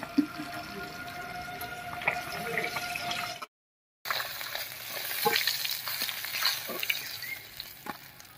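China puti fish fry in oil with a busy, spattering sizzle and occasional stirring. Sound cuts out briefly midway, then the frying resumes at similar strength.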